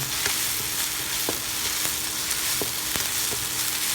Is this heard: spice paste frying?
yes